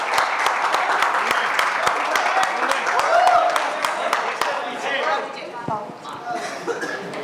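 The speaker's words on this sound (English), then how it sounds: "We can quadruple the round of applause." An audience at a trailer launch event for a streaming series gives applause, steady clapping with sharp individual claps standing out, while a voice talks over it and the noise fades toward the end.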